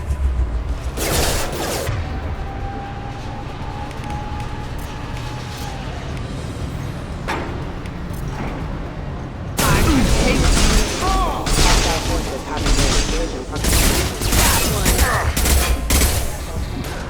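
Gunfire in the Mass Effect 2 video game: a loud stretch of rapid automatic bursts and impacts breaks out after a quieter rumbling lull with a few isolated shots, with dense overlapping fire to the end.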